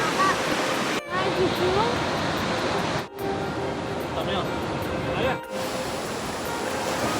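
Powerful ocean waves at a beach in Kannur roar as a steady, loud wash of surf with brief dips between breaks, and faint voices are mixed in beneath.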